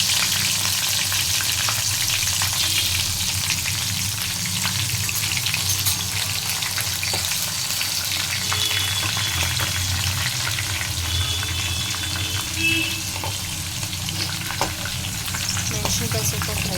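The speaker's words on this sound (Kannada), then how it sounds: "ಮೆಣಸಿನ್ಕಾಯಿ ಸ್ವಲ್ಪ ಫ್ರೈ ಆಗಿದೆ." Green chillies frying in hot oil in a home kitchen pan, a steady loud sizzle and crackle with occasional stirring scrapes, continuous and close throughout, with no talking.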